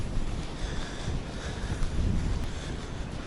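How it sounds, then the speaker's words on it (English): Strong wind buffets the microphone on an estuary shore at high tide in late March, a steady loud rumbling roar with no pauses and no voices. "It's the end of March, but it is very windy."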